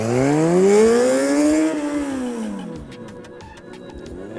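A motorcycle ridden hard makes a panic stop under heavy braking. The engine note climbs loud and close, then sinks in pitch as the bike slows, followed by faint clicking and ticking.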